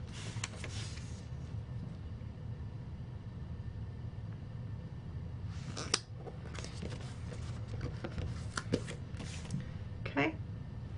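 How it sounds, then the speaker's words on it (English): A sticker banner being peeled up from a paper planner page gives soft crinkling and papery rustles, with sharper tearing bursts near the middle and toward the end over a quiet background. "Need to peel up that weekend banner so I can get this full box in there"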